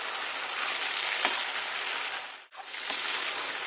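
Pork with taro stems sizzles and fries steadily in a pan, a close, continuous crackle broken by a couple of scraping stirs, with a brief lull near the end.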